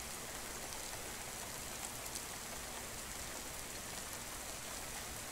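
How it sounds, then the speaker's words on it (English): Rain in the horror video game Kidnapped, a steady, even hiss of downpour with no breaks or other sounds, moderately quiet and unchanging throughout. "Stop it, rain. You're too much rain for me."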